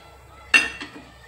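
Steel containers and a spoon clink together in a home kitchen, one sharp metallic clank followed by a softer second knock and faint ringing, brief and close in a quiet room.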